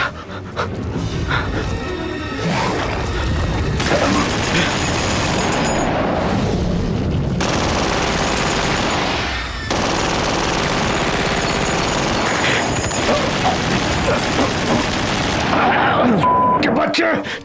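Dense, loud gunfire rattles through a chaotic Anaconda movie scene as sustained bursts mixed with panting and commotion.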